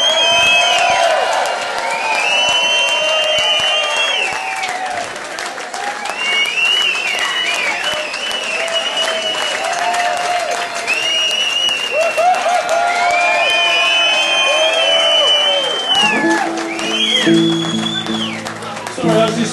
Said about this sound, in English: So, to tumultuous applause, if you would please.